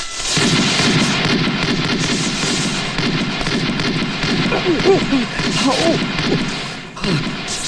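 Rapid crackling bursts of a firecracker or gunfire salute greeting the boss's arrival, dense and continuous at close range, with voices mixed in underneath.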